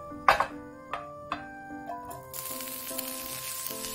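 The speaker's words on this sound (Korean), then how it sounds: "궁채를 으깬 참깨와 소금, 후추로 간을 하고 볶아줍니다." Celtuce stir-fries in perilla oil with crushed sesame, salt and pepper. A soft, hissing sizzle starts about halfway through and continues beneath ringing, tonal musical notes that begin with a few plucked strikes.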